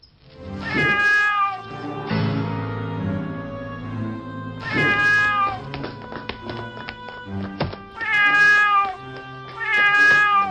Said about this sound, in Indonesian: Astaga, kucing siapa ini?